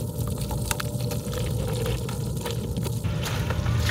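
Rainwater runoff pours off the roof of an auto parts store during a rainstorm, a steady, broad splashing rush of falling water that continues throughout at a moderate, even level.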